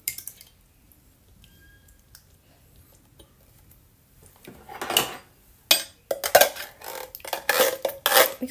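Cream-style sweet corn and maja blanca ingredients being stirred in a pot: quiet at first, then close, irregular clinks and scrapes of utensil against metal with wet squishing, growing busier toward the end.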